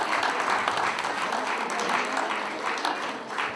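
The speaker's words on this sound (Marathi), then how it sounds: "सर्वांनी पुन्हा एकदा टाळ्या वाजवाव्यात" A crowd applauding at a community gathering, dense sustained clapping that holds steady for a few seconds before easing slightly.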